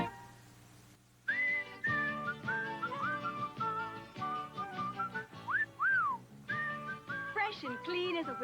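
A bright, melodic whistled tune carries an Irish Spring soap commercial jingle over a backing of music, with lively pitch slides and a short pause before it resumes.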